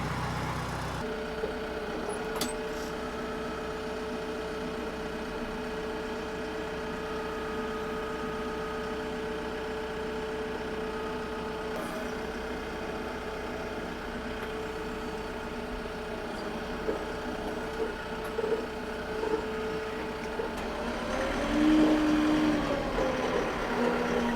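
A Case 730 tractor engine idles steadily while warming up on a hay farm, a constant low mechanical hum with a faint rise in level near the end.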